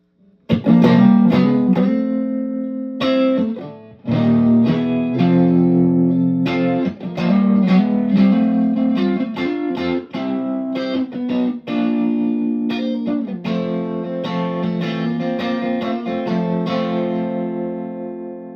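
Electric guitar played through a Vox amp into a matching Vox speaker cabinet, loud and continuous with chords and melodic lines ringing out, short breaks between phrases, no talking.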